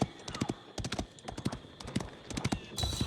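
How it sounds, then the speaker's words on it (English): Horse hooves galloping in the Age of Empires IV video game, rapid rhythmic clip-clop beats in clustered bursts over a steady background, with a faint whinny. "With each gallop of his horse's hooves"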